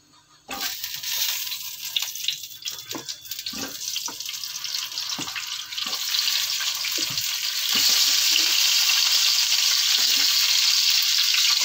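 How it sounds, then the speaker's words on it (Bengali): Cauliflower pieces sizzle and fry in a pan with steady, close hissing and crackle that grows louder and denser partway through, with no talk. "কপিটা ভাজা হতে থাকবে।"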